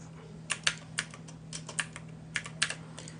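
A captcha typed on a computer keyboard: a close run of light, quick keystrokes in small irregular bursts over a steady low hum, with no voices.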